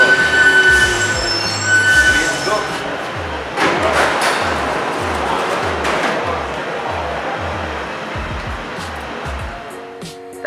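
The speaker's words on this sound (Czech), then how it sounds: "Jedeme klasickou jedničkovým metrem, který už přijíždí na Gare de Lyon" A Paris Metro line 1 train arrives at Gare de Lyon, with a loud, steady rolling rumble, rhythmic clacks over rail joints and high wheel squeal, fading slightly toward the end.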